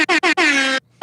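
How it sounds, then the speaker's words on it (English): An air horn blasts three times, two short bursts followed by a longer sustained honk, loud and close with a brief silence before a fourth blast begins. "Yeah, huge air horn."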